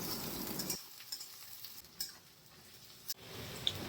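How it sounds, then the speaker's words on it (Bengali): Chopped onion fries in hot white oil with a soft, faint sizzle, dropping quieter after the first moment, with a few light scraping stirs and clicks. "প্রথমে খানিকটা সাদা তেল গরম করে তার মধ্যে পেঁয়াজ কুচিটা দিয়ে দেওয়া হলো।"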